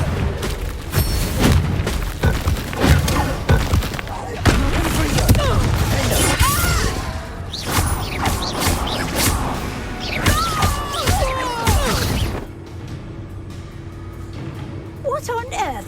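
Bombarda spell blasts in the Hogwarts Legacy video game: repeated booming explosions and crashes throughout a busy battle, with whooshes and shouted spell voices mixed in, quieting near the end.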